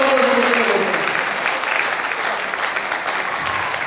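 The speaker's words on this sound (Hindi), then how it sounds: "तालियां जोरदार" Loud, dense audience applause fills a success celebration event, a steady roar of many hands clapping from start to finish with no voices standing out.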